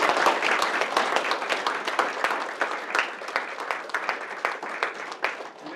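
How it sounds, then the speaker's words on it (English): Audience applause for presenters and an elder in residence at a Kitselas First Nations governance gathering, a steady, full round of clapping from a crowd in a hall, dense and close, with faint voices mixed in. "let's bring them together in a round of applause for our presenters and our elder in residence"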